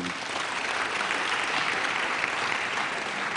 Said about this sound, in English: Are we not clapping for him?